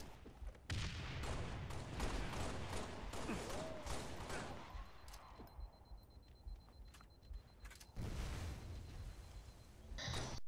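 Grenades blast one after another in Halo Reach, a chaotic run of loud booming bursts and crackling gunfire-like impacts, dense at first, thinning briefly, then swelling again toward the end.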